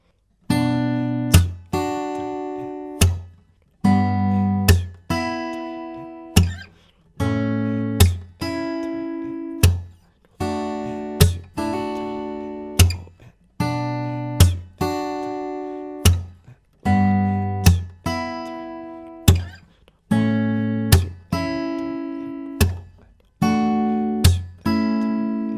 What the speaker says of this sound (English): the main riff that we can basically play throughout the whole song sounds like this